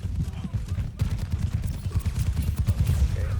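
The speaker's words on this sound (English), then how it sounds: "Okay, lots of shooting." Rapid gunfire in the shooter Overwatch, a dense run of automatic shots in quick bursts with low thumping impacts, steady and close, with a voice speaking faintly beneath.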